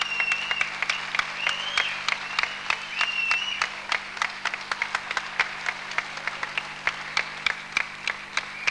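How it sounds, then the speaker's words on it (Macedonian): Audience applause at a 1994 Bitola singing competition, steady, dense clapping from a large crowd, fairly close and even throughout with no talking over it. "Се разбира дека заслужува аплауз."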